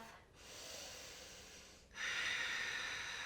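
Steady audible breathing during a strong, Ashtanga-inspired yoga flow: a long, hushed airy exhale, then a brief pause, then a louder, rougher breath that continues to the end, close and with no talk.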